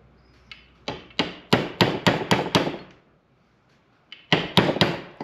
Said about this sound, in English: I'm just gonna tap around the edges and try to drive in as straight as possible.